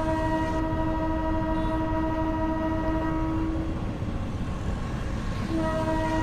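A Chennai Beach to Tambaram fast local electric train in the Train Simulator (Railworks 3) game rumbles steadily along the track while its horn sounds a sustained multi-tone blast, briefly pausing and then resuming near the end.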